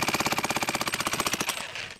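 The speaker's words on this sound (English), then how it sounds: "an ancient jackhammer" An old, worn jackhammer pounds rubble in a bombed-out Mosul street, a rapid steady hammering burst, loud and close, that stops abruptly after about a second and a half.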